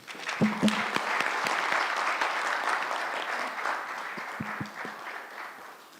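Sustained audience applause after a speech at the launch of a justice administration event, dense clapping from a large crowd continuing steadily throughout with a few sharper nearby claps.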